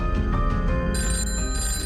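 A telephone rings loudly with a rapid, repeating electronic trill, close and alone.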